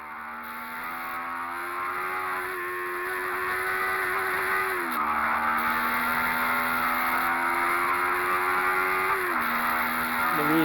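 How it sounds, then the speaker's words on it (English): A car engine revs hard and drops in pitch as it brakes aggressively into a very tight turn, then climbs again, a steady loud drone throughout with two clear downshift dips and no talk. "a quick little video showing the results of good aggressive braking going into a very"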